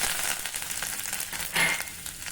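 A tempering of cumin, mustard seeds, asafoetida and curry leaves hisses and crackles in a small pan just after the gas is switched off, with a brief louder burst of sizzling midway.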